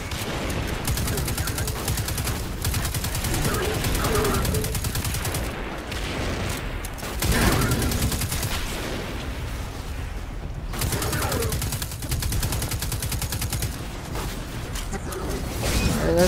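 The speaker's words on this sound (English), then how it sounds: "Alright, let's keep shooting him." Rapid sustained gunfire from weapons in Destiny 2, dense bursts rolling continuously at close range and fairly loud, with brief lulls and renewed volleys throughout.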